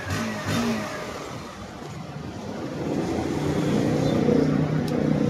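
A fuel-injected Bajaj Pulsar NS160 motorcycle, weak on uphill climbs, starts at the push of a button and then settles into a steady, close, even idle drone that swells slightly.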